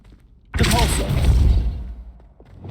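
The Repulso spell is cast in Hogwarts Legacy: after a quiet moment, a sudden loud whooshing thump bursts out, holds for about a second and a half, then trails away.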